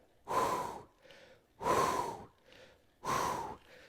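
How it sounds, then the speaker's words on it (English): Three forceful exhalations come through the nose and mouth in a steady rhythm, close and fairly loud, each followed by a softer inhale, as a person presses a circular resistance band through a tricep press. "Breathing out as I press up."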